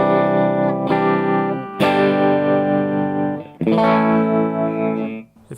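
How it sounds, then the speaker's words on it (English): Electric guitar played through a Jackrabbit tremolo pedal set to a sine wave, sustained chords swelling in a smooth wavering pulse, with three struck chords ringing out loud and close, no talking. "Finally, before the amp is the Jackrabbit Trem,"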